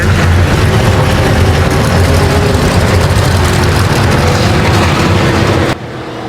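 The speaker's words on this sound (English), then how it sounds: "Engines fired up, cars rolling off here." Race car engines fire up together in the NASCAR Racing 2003 video game at Gateway, a dense, loud, steady roar of many motors that drops off sharply near the end.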